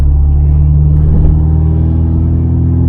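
A Honda Civic EK4 with its B16 engine idles close by, a loud steady low hum with a faint rise in revs partway through.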